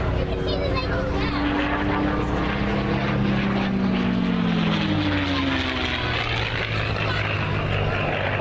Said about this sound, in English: the B-17 will shortly be taxiing past